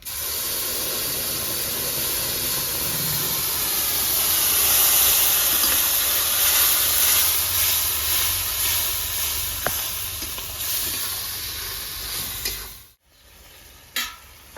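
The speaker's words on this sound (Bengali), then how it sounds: "ফোড়িয়ে দিয়ে দেবো 2টো শুকনো লঙ্কা, দেবো কালো জিরে, এবার দিয়ে দেবো সর্ষে, যেটা সব মশলাগুলো পেস্ট করলাম সেটা দিয়ে দেবো।" Spice paste of dried red chillies, nigella seeds and mustard sizzling and being stirred in hot oil for a village-style fish curry, a loud steady frying hiss close by, with a brief clatter near the end.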